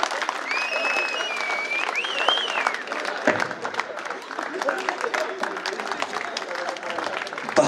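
Audience applause at a comedy parody show, dense clapping continuing steadily throughout at fairly close range, with whistles and voices mixed in near the start.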